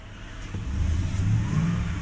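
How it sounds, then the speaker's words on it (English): A 2016 Ford F250 with a 6.2L engine revs up close by as the throttle is tipped in, the low rumble swelling steadily over two seconds with a faint hesitation before it climbs. "When you go to give it gas, like the tip in"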